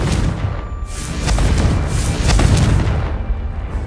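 Confringo fire spell blasts in the video game Hogwarts Legacy, a loud, deep booming explosion with a rumbling roll that swells and sustains across the whole moment, with no talking.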